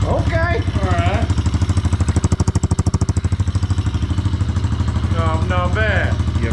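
A freshly built pit bike engine idles right after its first start, a steady loud mid-pitched putter running throughout while people talk excitedly over it.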